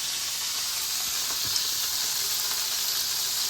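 Burger patty sizzling in a pan as it slowly cooks, a steady, close, bright hiss and crackle with occasional small pops.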